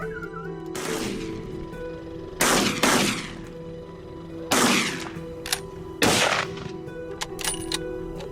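Gunfire aimed at a wild boar on farmland, several loud sharp shots with ringing decay spaced a second or two apart, plus a few fainter knocks between them.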